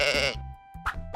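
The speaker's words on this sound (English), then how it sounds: "It's a sheep!" A sheep on a farm gives one loud, wavering bleat up close, then two shorter bleats follow after a brief pause.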